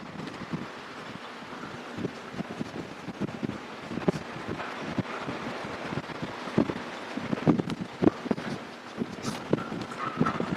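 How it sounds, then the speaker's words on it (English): Gusty wind on a windy day at SpaceX Starbase, Texas, buffeting the microphone in uneven rushes and low rumbles throughout. "On a windy day like today"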